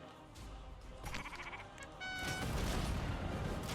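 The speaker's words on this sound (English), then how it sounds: "I just burned our sheep." Sheep in a video game bleat as they burn, several wavering cries rising over a crackling, popping fire background that grows louder partway through.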